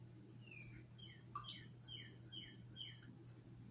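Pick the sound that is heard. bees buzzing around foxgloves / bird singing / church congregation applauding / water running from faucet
bird singing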